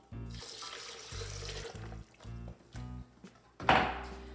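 Rye whiskey, two cups, glugs in a series of short pours into a pumpkin spice sangria with apple cider and chopped apples, ending in a brighter splash or clink.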